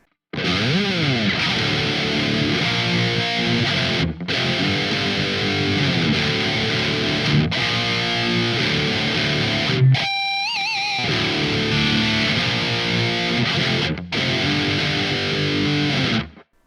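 Heavily distorted electric guitar through a Marshall Valve State 8100 amp capture, playing chugging riffs and chords, loud and continuous, with a brief pause and a few sustained bent notes midway.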